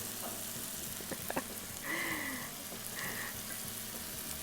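Onions sizzle steadily in a pan with a soft crackling hiss, close by, while a few clinks and faint tones sound over it.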